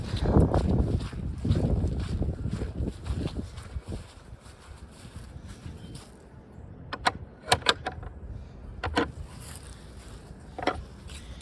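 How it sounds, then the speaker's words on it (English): Wind gusts across a backyard, rumbling loudly against the microphone at first and then easing to a softer breeze, with a few sharp taps and knocks nearby and no talk. "sorry if you hear the wind"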